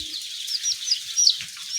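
Young layer chicks chirping in a brooder, a dense overlapping chorus of high thin peeps, steady and moderately loud with no voices.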